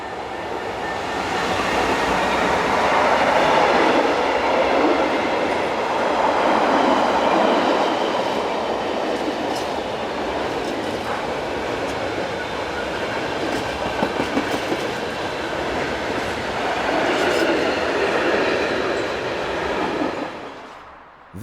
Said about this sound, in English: This Belgian Class 28 will power this freight train through to Germany